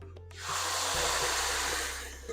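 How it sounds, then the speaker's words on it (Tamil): A loud, sudden hiss of sizzling erupts as dal is poured into a hot tempering pan, crackling steadily before slowly easing off. "இந்த மாதிரி சவுண்ட் வரணும் தால் ஊற்றும் போது"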